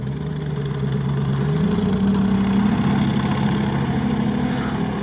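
A BRDM amphibious armored vehicle built on a GAZ-66 base, with its engine mounted at the rear, idles steadily close by. Its low, even rumble runs unbroken with a slight lift in pitch partway through, and no one speaks.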